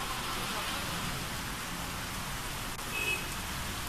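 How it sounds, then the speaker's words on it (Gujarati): A steady, dense hiss of heavy rain driven by wind in Valsad, Gujarat, unbroken and evenly loud throughout, with no distinct individual drops. "કેટલાક વિસ્તારમાં પવન સાથે વરસાદ નોંધાયો"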